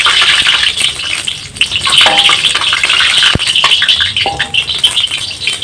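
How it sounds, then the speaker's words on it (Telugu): Dry red chillies fry in oil in a pan for a tomato and coriander roti chutney, giving a loud, steady sizzle close up, dotted with light clinks and a sharp tap as they are stirred. "ఎండుమిర్చి ఎర్రగా అయ్యేలా ఫ్రై చేసుకోవాలి"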